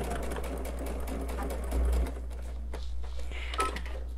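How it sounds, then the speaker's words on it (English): Close sewing machine running steadily along a quilt block seam, a low continuous motor hum with faint rapid needle clatter, swelling briefly near the middle and then easing off. "make sure your stitch, your foot, sews right over the center of that line that you made to pin these"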